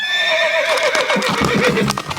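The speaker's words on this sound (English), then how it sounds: "I was sent with your horse." Horse neighing in an audio drama, a loud close whinny with a falling wavering pitch that breaks into snorting fluttery bursts, with no talk.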